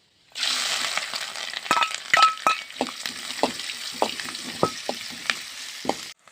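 Garlic, ginger and dried chillies hit hot oil for a gooseberry pickle, bursting into a loud sizzle that carries throughout, punctuated by sharp clinks and scrapes of a metal spoon against the pan.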